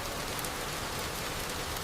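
Steady rain on a Saturday, an even, dense hiss of drops falling on surfaces, moderately quiet and unbroken, with no voices.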